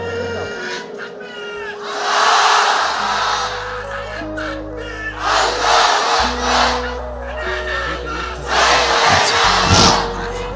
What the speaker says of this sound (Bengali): সবাই একটা তাকবীর দেন, লিল্লাহি তাকবীর।